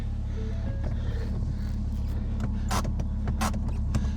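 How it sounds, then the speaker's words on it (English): A car's power window motor hums steadily as the glass lowers, with a couple of brief clicks or squeaks partway through. "Just turn these windows down to make sure nothing's sticking."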